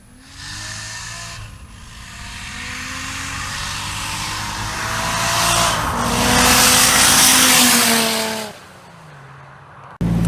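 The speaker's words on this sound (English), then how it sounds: "he's gonna do a flyby right now and give us a good shot of that car flying by and opening the wastegate" A turbocharged 2JZ Toyota Aristo flies by, engine note rising as it approaches and accelerates, then dropping away sharply as the wastegate opens near the end, loud and close.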